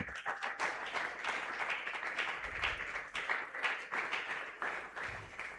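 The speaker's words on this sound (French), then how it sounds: "Acclame très fort pour la voix de Dieu" A church congregation at a Pentecost thanksgiving and praise service applauds steadily, a dense, even wash of clapping lasting several seconds, moderately loud with no break.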